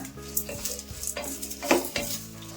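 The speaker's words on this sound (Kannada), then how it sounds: "ಟೊಮೆಟೊನ ಸ್ವಲ್ಪ ಮೆತ್ತಗಾಗಂಗೆ ಫ್ರೈ ಮಾಡ್ಕೊಂಬಿಡೋಣ" Tomatoes fry with salt in a pan for a South Indian vegetable sambar, a steady sizzle broken by repeated close scrapes and clinks of a spoon stirring against the metal.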